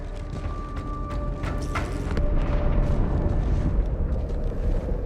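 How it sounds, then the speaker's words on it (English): Deep rumbling boom from an explosion inside a ship in the Halo 2 Anniversary video game, swelling louder midway and rolling on with low debris-like rumble for several seconds, with no voices. "That explosion came from inside the Athens, same as the Malta."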